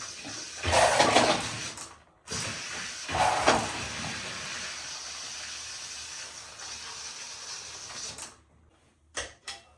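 Water is drawn through newly installed bathroom plumbing at a small tub tap, giving sputtering bursts of rushing hiss that settle into a steady flow. The flow cuts off near the end, followed by a few short spurts.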